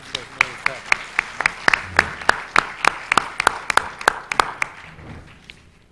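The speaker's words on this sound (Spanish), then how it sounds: "Un aplauso para ellos" A small audience at an academic forum claps in brisk, uneven applause, sharp hand claps clustering quickly, then thinning out and fading toward the end.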